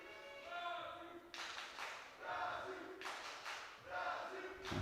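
Brazilian crowd at a junior powerlifting championship, repeated swelling waves of shouting and chanting with rhythmic clapping and cries, fairly loud and fluctuating, with voices calling out through the noise.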